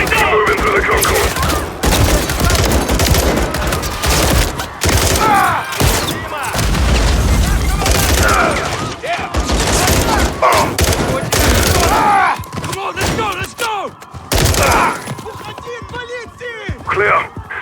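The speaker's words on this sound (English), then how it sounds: "They're using grenades! Get down!" Gunfire and grenade explosions in the video game Call of Duty MW3 during a stadium assault, dense automatic fire and heavy booms with shouted voices among them, loud and nearly continuous.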